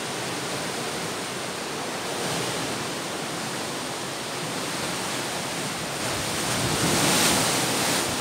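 Waves at a hidden beach, a continuous loud wash of surf and wind noise that swells slightly toward the end, with no voices.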